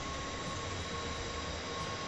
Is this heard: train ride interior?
yes